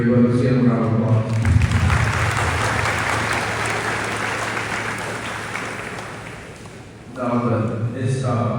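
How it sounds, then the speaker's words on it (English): An audience at a recognition ceremony for a state champion high school football team gives a warm round of applause lasting about six seconds, bracketed by a speaker talking before and after. "Let's give him a round of applause."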